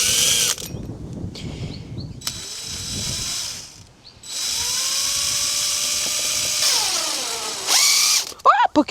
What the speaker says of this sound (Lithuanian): Nu ką, dar kartelį sugrėžiam viską